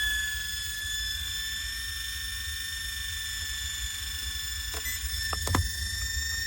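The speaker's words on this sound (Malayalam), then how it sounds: "ഇനി ഹെലികോപ്റ്റർ നമ്മൾ ഇതിൻ്റെ ഉള്ളിൽ പറപ്പിക്കാൻ പോകട്ടോ" A steady, high-pitched motor whine of a JJRC A60 toy RC helicopter hovering nearby inside a car, with a few brief clicks and a soft bump near the end.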